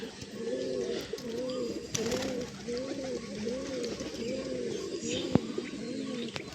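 Pet pigeons of the Nasra and Phulshira breeds coo in a steady, repeating rhythm of rolling, throaty calls close at hand. A sharp click cuts in briefly near the end.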